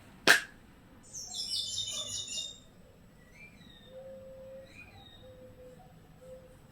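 Birds call outdoors, with a brief burst of chirping followed by faint, spaced single notes in the background after a sharp click at the start.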